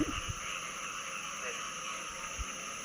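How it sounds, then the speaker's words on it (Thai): Frogs and toads croak in a steady chorus across flooded rice fields and a brimming canal after heavy rain. The sound is fairly faint and distant, with low wind rumble underneath. "เสียงกบเสียงอึ่งร้องแล้วนะคะ"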